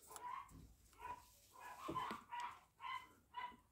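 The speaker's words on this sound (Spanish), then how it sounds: "Ya empezaron los perritos, ya ven." Several dogs bark in short repeated bursts, roughly one every half second, sounding somewhat distant and moderately loud with no talking over them.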